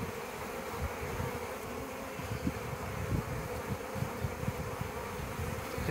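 A hornet buzzes among honeybees at a hive, with dense continuous insect droning close to the mic and small irregular swells in loudness throughout.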